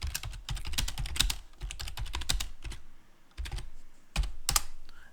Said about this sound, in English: And I can just keep typing.